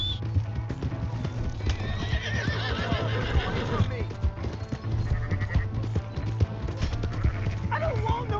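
A horse in Red Dead Redemption 2 whinnies and neighs over steady clip-clopping hooves in a busy game scene, with background voices and ambient noise throughout.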